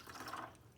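An old fashioned cocktail made with High West Double Rye whiskey is poured over a glass of ice, giving a short, quiet liquid splash and trickle with no talking.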